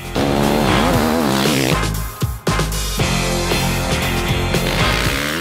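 A loud, high-revving KTM 540 SXS motorcycle engine screams and climbs through the revs, cutting briefly before roaring back up, close and harsh.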